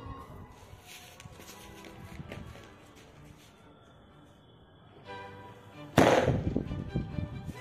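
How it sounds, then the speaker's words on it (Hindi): An A1 brand Super Bullet Bomb Deluxe firecracker set off outdoors for Diwali, with faint handling noises and a low fizz before a single sharp, loud bang near the end that trails into rumbling echo. "और ये है A1 ब्रांड का सुपर बुलेट बम डिलक्स, जिसकी प्राइस है 50 रुपीज़, तो चलिए इसकी टेस्टिंग करते हैं।"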